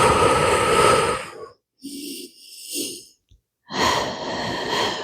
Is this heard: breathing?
yes